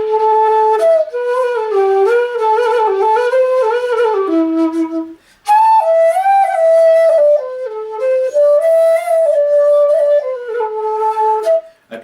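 A penny whistle plays a bright, sweet melody in two phrases separated by a short pause, with clear sustained notes and quick steps.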